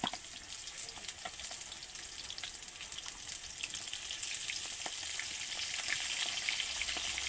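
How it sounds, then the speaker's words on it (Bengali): Pieces of pointed gourd (potol) sizzle steadily in hot oil, a constant bright hiss with scattered small crackles and pops, close and fairly quiet, with no talking. "মাত্র আর কয়েকটা বাকি রয়েছে একসঙ্গে দিয়ে ভেজে নেব"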